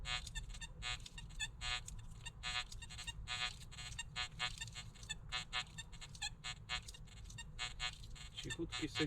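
Metal detector signal tones from an XP Deus or XP ORX on an embankment, rapid repeating beeps pulsing throughout over steady low background noise.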